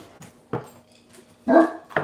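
Dogs on a farm give a few short barks and yips, spaced irregularly with one louder, longer bark near the end, fairly close with quiet gaps between.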